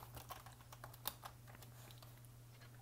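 A chat message is typed on a computer keyboard in quick, irregular clicks, faint and close, with one sharper keystroke in the middle over a low steady hum.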